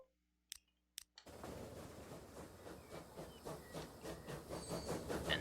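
Newly designed trains depart in Transport Fever 2. A few isolated clicks come first, then a continuous rolling rail rumble with rhythmic clacking and hiss builds steadily.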